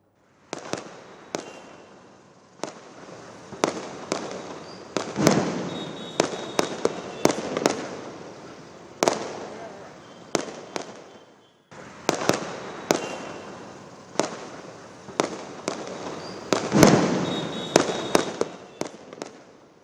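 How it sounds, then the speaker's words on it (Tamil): Firecrackers burst again and again during a Diwali night celebration in Delhi, with sharp cracks and booming reports in irregular clusters over a constant rumble of distant blasts for the whole stretch. "பொதுமக்கள் இரவு முழுவதும் பட்டாசு வெடித்து தீபாவளி பண்டிகையை கொண்டாடினர்"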